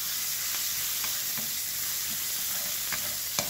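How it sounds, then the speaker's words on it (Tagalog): Garlic sizzles in a pan as it browns, a steady, fairly quiet frying hiss with occasional faint ticks of a utensil stirring, no voices. "Hintay natin na medyo mag-brown yung bawang ng ating doon."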